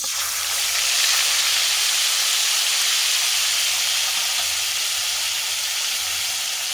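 Onion paste hitting hot oil left from frying fish, potatoes and beans for a fish curry, giving a loud, steady, close sizzle and hiss throughout with no talk.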